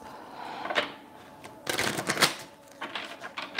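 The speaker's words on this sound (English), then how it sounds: "So just going to shuffle a few times until I get" Rapid papery riffling of tarot cards being shuffled in quick bursts, with short pauses between each shuffle, close by and fairly quiet.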